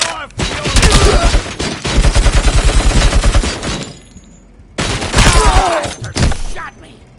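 Rapid bursts of automatic gunfire in RoboCop: Rogue City, loud and close, firing in two long volleys separated by a brief lull, with short shouted voices mixed in.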